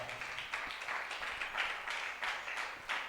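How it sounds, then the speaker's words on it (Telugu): A church congregation claps in praise during a Telugu Mother's Day sermon, a steady rhythmic pattern of group handclaps, soft and somewhat distant, continuing for several seconds. "చప్పట్లు కొట్టి దేవుని మహిమపరుస్తా."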